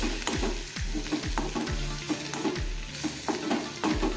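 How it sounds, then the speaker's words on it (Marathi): Fresh turmeric cooked with curd and ghee is stirred in a pan over low heat, with a quiet sizzle under repeated rhythmic scraping strokes of a spoon, about eight in four seconds. "मंद विस्तवावरतीच आपण हे असं परतून घेऊया छान अगदी तूप सुटेसपर्यंत"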